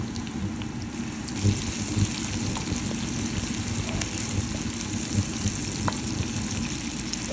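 Spices temper in hot oil with tomato and dried chilli, a close, continuous crackling sizzle with small pops and stirring sounds and no voices.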